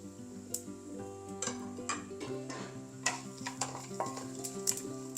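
Whole spices such as star anise, cinnamon, cardamom, cloves, mace and bay leaf sizzling in hot oil for green chilli chicken pulao, a quiet soft crackle under a sustained hum, punctuated by light ticks and clinks of utensils.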